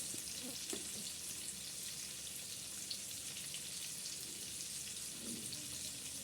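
Ginger garlic paste, about one and a half spoons, frying in a pan gives a steady, soft hiss of sizzling oil, faint and continuous, with a couple of small knocks.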